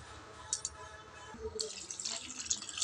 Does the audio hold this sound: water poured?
yes